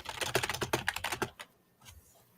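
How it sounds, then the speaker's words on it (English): Quick bursts of typing on a computer keyboard, a rapid run of close, crisp clicks for about a second, then a few scattered keystrokes trailing off into quiet. "I'm hearing typing at the same time"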